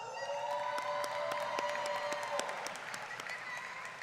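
Family and guests at a college of education commencement ceremony applaud and cheer for a student speaker, a dense wash of clapping with whoops that swells then eases slightly, filling the hall.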